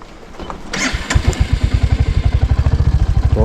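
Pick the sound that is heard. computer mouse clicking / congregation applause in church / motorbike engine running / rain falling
motorbike engine running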